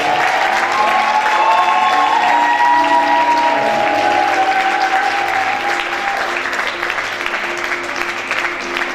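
A church congregation claps loudly in praise of the Lord, dense sustained applause from a large crowd mixed with cheers and scattered voices, holding strong throughout before easing slightly at the end.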